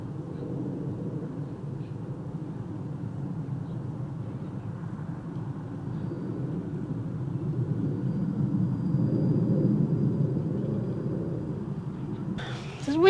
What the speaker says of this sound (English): There's always a plane that goes over when I want to do nature shots